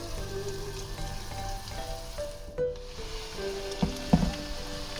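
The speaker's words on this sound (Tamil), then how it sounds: "இந்த சிக்கனை எல்லாம் இதில் போட்டு பொரித்து எடுத்துக்கலாம்." Chicken pieces deep fry in hot oil for Indo-Chinese hot garlic chicken, giving a steady, soft crackling sizzle with a few sharper pops near the end, and no voices.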